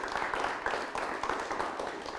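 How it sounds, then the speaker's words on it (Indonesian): An audience at a traditional dance and culture event claps for the musicians, a continuous wash of many hands ringing through a hall. "Kami persilakan tepuk tangan untuk musik kita ini."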